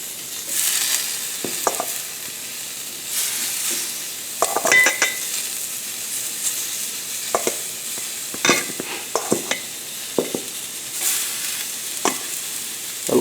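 Zucchini medallions sizzle on an indoor grill as a quiet, intermittent hiss, broken by short scrapes and clinks of a utensil turning the slices, with no voices.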